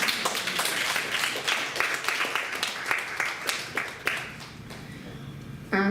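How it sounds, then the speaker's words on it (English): Audience clapping hands at a SACCO breakfast meeting, a moderate patter of claps over room noise that gradually thins out. "Can you give a big hand clap to the vetting?"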